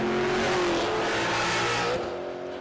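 A first-generation Cadillac CTS-V with a naturally aspirated LS V8 and stick shift drag racing at Texas Motorplex, a loud, close roar of the engine revving hard and climbing in pitch before fading slightly as the car pulls away.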